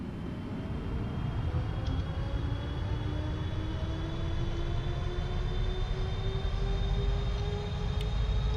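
Jet engines of a PMDG 777F airliner on its takeoff roll in a flight simulator make a continuous broad roar with a rising whine that swells steadily and holds loud throughout.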